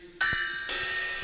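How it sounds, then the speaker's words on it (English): Medieval bell chimes, a series of suspended bells struck with a hammer, give one bright strike that rings on steadily, close and moderately loud, with no voices. "symbols became bell chimes, bells suspended in series"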